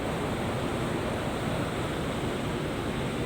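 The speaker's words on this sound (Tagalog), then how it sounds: "ang agos ng tubig ng dagat at ang hagupit ng alon." Sea waves and surging water heard as a steady, full broadband rush without breaks, like surf or wind-driven water close by, with no voices.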